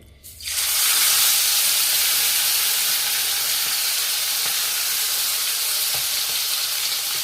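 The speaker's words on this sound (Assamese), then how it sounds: "তেলত দি ভাজিম দেই।" Marinated chicken pieces for fried barbecue chicken go into hot oil, bursting into a loud, steady sizzle and crackle that starts abruptly and holds close and continuous for about seven seconds, with no speech.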